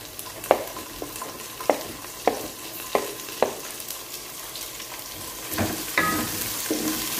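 Onion sautés in a pan for salmon-head sinigang: a steady sizzle punctuated by a series of sharp, regular spatula knocks against the pan, roughly every half second, then louder stirring scrapes toward the end, with no voices.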